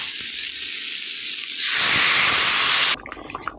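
Water is poured into a hot pot of spiced potato masala, first a steady loud hiss, then a brighter, harsher sizzling rush that stops abruptly into faint bubbling and crackles.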